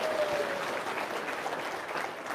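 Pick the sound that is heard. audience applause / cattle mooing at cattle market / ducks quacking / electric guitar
audience applause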